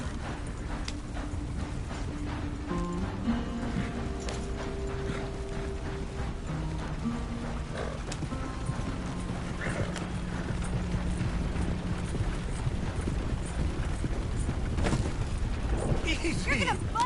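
Horse-drawn wagon rolling along in Red Dead Redemption 2, with steady hoof clip-clop and creaking, rattling wheels and tack running continuously under game music and occasional character voices.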